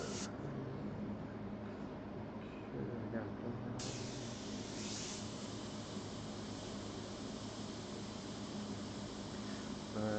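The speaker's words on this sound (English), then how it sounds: "Spray out, check my pigment density." Airbrush spraying pigment during a live northern pike painting session, a steady broadband hiss running continuously with a brighter burst partway through, with faint background talk.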